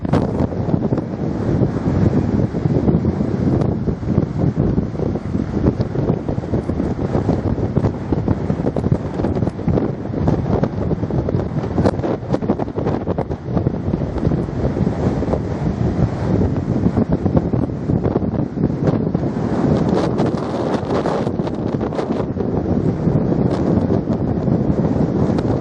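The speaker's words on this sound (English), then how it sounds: "How windy is it in Widemouth Bay" Strong wind buffets the microphone at Widemouth Bay, Cornwall, a loud, continuous roar with gusts and a faint wash of surf beneath, steady for the whole stretch with no talk.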